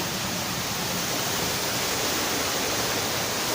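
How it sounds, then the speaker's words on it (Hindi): A waterfall roars as a constant broadband rush of falling water, loud and close and unchanging, with no voices over it. "तो गाइस, मैं आप लोग को दिखाऊंगा झरना"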